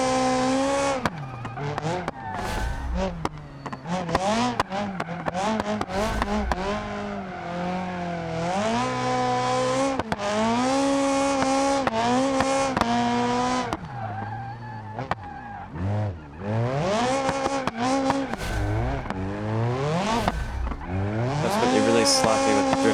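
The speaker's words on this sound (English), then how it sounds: "Sloppy with the drifting here." Car drifting in the BeamNG driving game with a city bus career mod, engine revving and falling in sweeping pitch while tires squeal continuously and loudly across the whole stretch, no voices.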